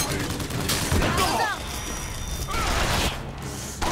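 Gunfire and mechanical clatter in the video game Bioshock Infinite come in a few loud bursts with shifting game effects, while someone talks over the action.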